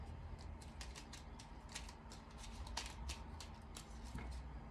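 Small cards are shuffled by hand, giving a steady stream of quick, dry riffling flutters and snaps over several seconds, close up and moderately quiet, with no voices.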